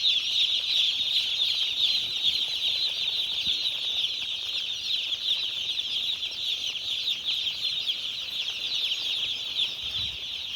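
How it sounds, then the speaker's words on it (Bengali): Chicks running in circles inside a brooder at a village poultry farm, giving a steady, dense chorus of high peeping that continues throughout with no talking. "আর এখন দৌড়াচ্ছে পাখিগুলো, গোল গোল ঘুরছে বুডিংয়ের মধ্যে"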